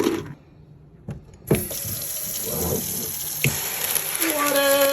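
Cold tap water gushes into an axolotl tank after a few quiet seconds and a couple of knocks, rising into a steady pour that brightens in pitch as the tank fills.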